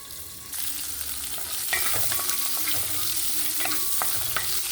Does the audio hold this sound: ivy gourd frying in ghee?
yes